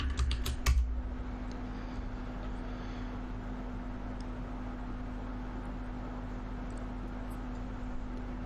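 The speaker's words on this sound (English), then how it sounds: "If I can type the password right." Password typing on a computer keyboard at a Windows Server login: a quick burst of key clicks near the start, then a steady low electronic hum continues on its own.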